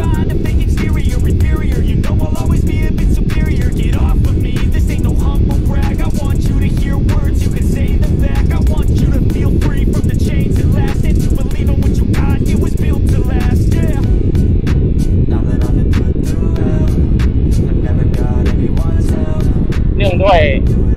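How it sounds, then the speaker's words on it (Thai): A Ducati Monster 937 motorcycle rides fast through traffic, giving a constant loud roar of engine and wind rush with no letup, while a voice talks over it. "ผมขับแบบสไตล์มุดมากๆเลยอ่ะคือพยายามจะมุดเพื่อให้แบบไปทำงานให้เร็วขึ้น"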